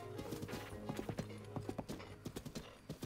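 Horse hooves clip-clop in a steady run of distinct hits from a mount in The Legend of Zelda: Breath of the Wild, close and clear, set against soft game background sound and with no voice over it.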